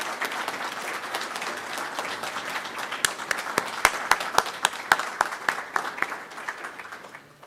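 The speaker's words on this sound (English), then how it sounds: "Let's please give one more round of applause for all the graduates." Applause for graduates at an art college commencement ceremony, a crowd clapping steadily at first, then sharper individual claps standing out near the microphone as the ovation slowly thins and fades.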